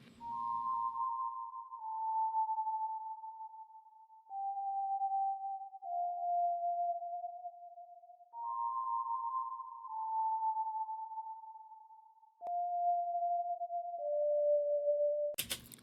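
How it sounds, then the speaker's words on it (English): A soft synth melody of sustained tones stepping down in pitch, repeating the phrase twice, clean and alone with no voices. "It's just a little pluck pad."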